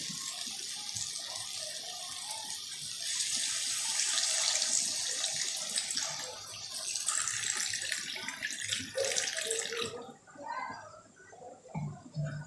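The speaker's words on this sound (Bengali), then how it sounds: "এবারে আমি জল ঢেলে দেবো।" Water pours into a pan of spicy Bengali fish curry simmering in oil, a loud steady gushing hiss that lasts about ten seconds before cutting off into softer bubbling.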